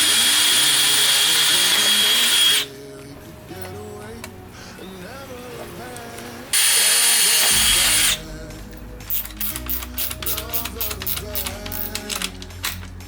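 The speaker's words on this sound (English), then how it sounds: "let's go ahead and drill in" An electric drill bores holes while race fans are mounted on an LS3-swapped 240SX, in two loud bursts of about three and two seconds separated by quieter shop noise, followed by rapid clicking.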